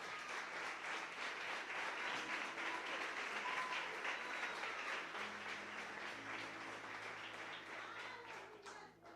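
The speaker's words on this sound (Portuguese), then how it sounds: "aplauda Jesus então." A church congregation applauds in a sustained, dense burst of clapping that fills the room, holding steady for most of the stretch before tapering off at the end.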